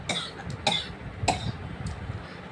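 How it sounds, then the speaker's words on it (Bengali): A person coughs hoarsely several times in close succession: about four or five short, sharp bursts, spaced irregularly and fairly quiet, with no talking. "খুব কাশি হয়েছে তার সাথে"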